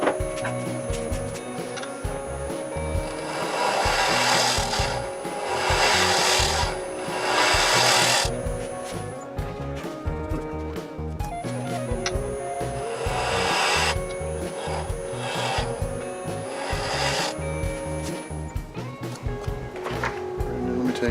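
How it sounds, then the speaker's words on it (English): A scraper rasps across a small wooden plate spinning on a lathe, in repeated loud passes with brief pauses between them under a steady motor whine. "Scraper in there."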